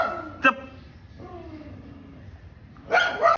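A dog barks in an Odia comedy skit: one sharp bark early on, then a louder burst of barking near the end, with voices and background sound in between.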